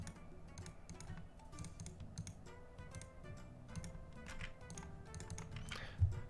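Rapid mouse clicking while playing Candy Box 2, a steady stream of light, close clicks and taps throughout with a bit of computer background, no voice.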